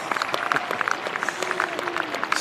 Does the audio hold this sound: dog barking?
no